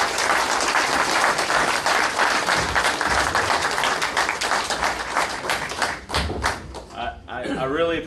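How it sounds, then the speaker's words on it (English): Audience at a luncheon applauding, a dense, sustained wash of clapping from a crowd that thins out and gives way to a speaking voice in the last second. "Please give both these guys a round of applause."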